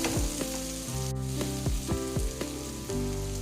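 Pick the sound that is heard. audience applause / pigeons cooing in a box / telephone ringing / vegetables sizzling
vegetables sizzling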